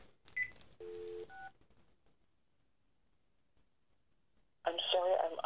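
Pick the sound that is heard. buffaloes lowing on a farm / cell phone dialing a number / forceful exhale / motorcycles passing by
cell phone dialing a number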